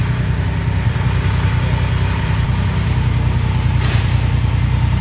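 A Triumph Rocket 3 GT motorcycle with a 2500cc engine idles loud and close, its deep, steady rumble throbbing evenly throughout without any speech.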